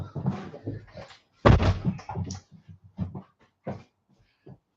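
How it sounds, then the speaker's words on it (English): A back door is shut with a loud thud in the middle, preceded by shuffling movement and followed by scattered softer knocks and rustles in a domestic room. "I'll just shut the back door as well"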